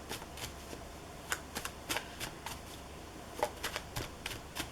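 Tarot cards are shuffled in a quiet room, a series of soft, quick riffling flicks at an irregular pace, close and fairly faint with no talking.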